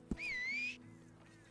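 A rising-and-falling whistle calling a horse in the Red Dead Redemption 2 video game, one clear sustained tone lasting about half a second, followed by faint game sounds and a low thump at the end.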